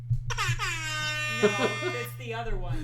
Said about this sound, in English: No, I just have the movie horn, the boom.